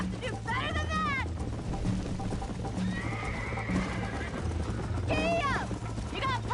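Horses gallop in the video game Red Dead Redemption, with steady hoofbeats under loud whinnies and neighs at the start and end, and game sounds in the background.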